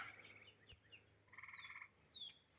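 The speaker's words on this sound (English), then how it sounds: "the frogs are singing their song." Faint frog croaks pulse in short bursts amid a quiet meadow backdrop at dusk, with a couple of high sweeping bird chirps near the end.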